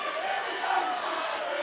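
A Richmond Spiders home crowd roars at an NCAA Tournament basketball game against Vanderbilt, a steady broad wash of cheering with no pause, a bouncing ball faintly mixed in under the din.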